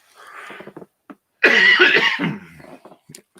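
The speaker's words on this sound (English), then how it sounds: "I don't know where that cough came from, but it just snuck up on me" A burst of harsh coughing, loud and close, follows a few quieter throaty sounds and short breaths.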